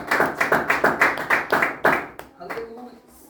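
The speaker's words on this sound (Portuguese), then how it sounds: "Então pode bater palmas para Deus" Church congregation clapping their hands in a quick, regular rhythm of about a dozen claps that stop abruptly, followed by a short vocal exclamation.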